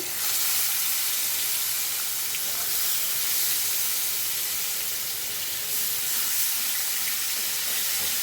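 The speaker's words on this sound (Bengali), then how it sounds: "চিংড়ি মাছটা ভেজে নিচ্ছি।" Shrimp sizzle loudly in hot oil with a dense, steady hiss of spitting and steam that holds at an even level throughout, with no voices.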